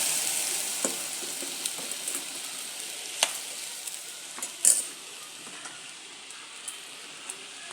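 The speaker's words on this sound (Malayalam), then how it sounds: "ഞാനൊരു അരമുറി തേങ്ങ അരച്ചതാണ്, അത് അതിലേക്ക് ഒഴിച്ച് കൊടുക്കാം." Ground half coconut poured into a sizzling kadala (chickpea) curry in a pan, giving a steady hiss of frying with a few sharp pops and stirring clinks, no voices.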